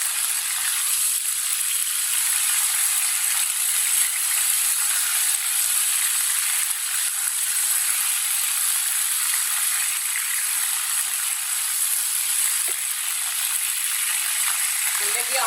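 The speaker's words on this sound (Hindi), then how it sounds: "चिकन को 2 मिनट तक पका लेंगे" Half a kilo of chicken frying in a pan over roasted cumin, a steady loud bright sizzle running unbroken and close throughout, no voices.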